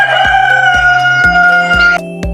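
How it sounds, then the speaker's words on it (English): A rooster crows in a clean, loud recording, its calls ringing clearly over a series of sharp, rhythmic thumps. "Yay, it's a rooster."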